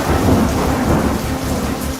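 Torrential August monsoon rain in Madhya Pradesh pounds down in a loud, continuous roar, with deep rolling thunder rumbling underneath and no voices.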